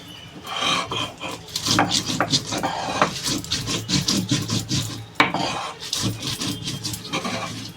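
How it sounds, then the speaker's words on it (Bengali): Spices and fresh ginger ground together by hand on a flat grinding stone, a steady rhythmic rasping scrape repeated back and forth at close range, with a sharp knock partway through. "এই মশলাটা আমি একসঙ্গে সব বেটে নেবো"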